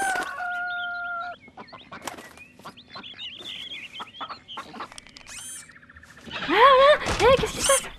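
Hen and rooster on a farm in an animated cartoon, scattered clucks and squawks building to a loud burst of crowing and cackling near the end, mixed with music and other effects.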